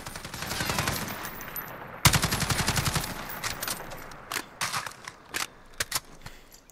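STG77 (AUG A1) bullpup rifle firing in Call of Duty Modern Warfare: a sustained full-auto burst, then a second dense burst, followed by a string of short bursts and single loud shots spaced apart.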